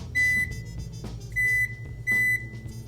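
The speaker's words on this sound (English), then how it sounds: "it puts a little beep out so you can find it" An APOSEN A710 robot vacuum cleaner sounds its locator signal, three loud sustained electronic beeps at regular intervals over a low background hum.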